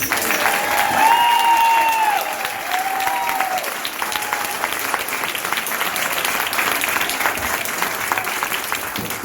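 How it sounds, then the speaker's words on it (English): A crowd at a campaign kickoff event breaks into sustained, dense applause that fills the room and holds steady throughout, with a few cheers and whoops rising over the clapping. "Now you may want to hold off on the clap"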